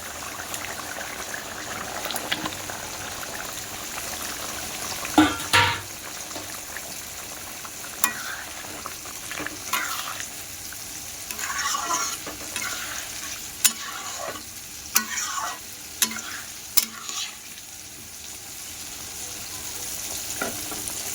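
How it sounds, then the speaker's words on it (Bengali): Fish curry simmering and bubbling in a covered pan, a steady low boil with occasional sharper clinks and stirring sounds, close and moderately quiet, with no talking. "এবার ঢেকে দেব ঝোল ফুটে গেছে মাছগুলো দিয়ে দেবো"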